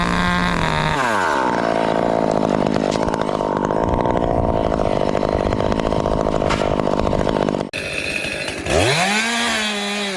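A chainsaw cutting through tree branches high in a tree, a loud sustained engine roar with pitch wavering under load, a brief dip near the end, then revving back up.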